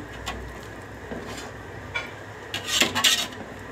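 Khichuri is stirred in a pot at an outdoor picnic, with sparse metallic scrapes and knocks of a ladle against the pot that grow louder and busier near the end, close by, without talk.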